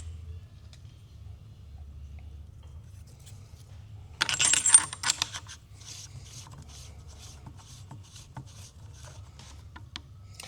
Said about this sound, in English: So I'm going to take this off and install a barrel nut shim.